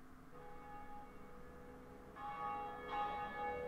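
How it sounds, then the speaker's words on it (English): Church bell tolling in the Dark Souls video game, sustained ringing tones layered with new strikes that swell the sound, fairly faint and with no talking. "I rang one of the bells!"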